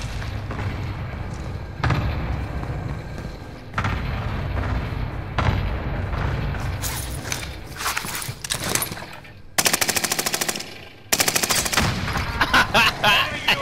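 Gunfire in the video game Call of Duty Modern Warfare: repeated bursts of automatic weapon fire and sharp single shots, growing denser and louder toward the end, over a steady game backdrop.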